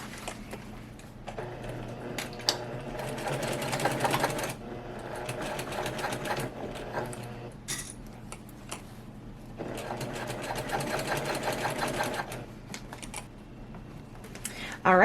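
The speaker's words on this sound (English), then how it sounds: "I am now going to stitch along just the bottom of the liner panels." A sewing machine stitches along the bottom of quilted bag liner panels in two long, rapid runs separated by a short pause, with close mechanical clatter and a brief click at the end.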